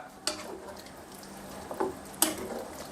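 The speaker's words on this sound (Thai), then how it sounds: "คนอีกเล็กน้อย" A spoon stirs spicy pork rib soup in a pot, a few soft scrapes and knocks against the pot spaced over a quiet bubbling background, faint and close.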